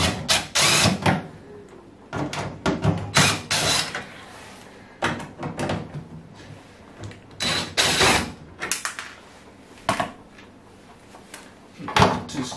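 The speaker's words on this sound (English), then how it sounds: "So I'm gonna start removing my Phillips screw all around on my heater." Phillips screws come out of the heater housing of an Indesit IDC75 tumble dryer, heard as a close series of clicks, metallic rattles and scraping handling noises in irregular bursts, without speech.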